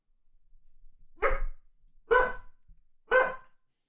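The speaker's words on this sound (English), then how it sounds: "My dog's really loud." A dog lets out three loud, close barks, evenly spaced about a second apart, heard alone against quiet background noise.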